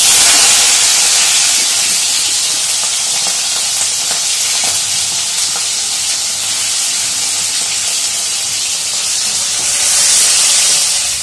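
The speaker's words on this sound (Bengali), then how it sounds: "আর এই যে রয়েছে চিংড়ি মাছ, সেগুলো এখন ভাজবো" Shrimp fry in a pan with a loud, hissing, steamy sizzle that stays constant and close, swelling slightly near the end, with no one talking.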